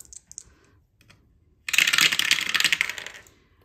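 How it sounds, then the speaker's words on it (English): Dice from a shut the box game clatter and rattle in a loud burst lasting about two seconds, following a few faint earlier clicks, with no talking. "I've got my shut the box dice."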